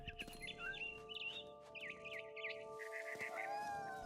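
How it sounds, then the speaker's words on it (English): Bird chirps and tweets from What Remains of Edith Finch, rising in repeated bright trills through the clip over a steady game ambience and low hum, fairly close and clear with no talk. "Let's go catch this damn bird."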